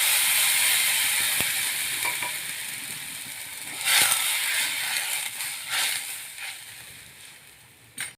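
Water poured into a hot pan of spiced oil with turmeric and red chilli powder for Vidarbha-style chun bhakar, giving a steady close sizzle with a few sharper bursts and clatters, fading gradually toward the end.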